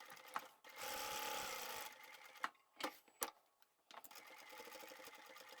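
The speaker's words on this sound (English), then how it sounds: "And we'll sew up those pockets" A sewing machine stitches the pockets of a small fabric craft tote, with a sustained run of fast stitching followed by short bursts and clicks, then a second run.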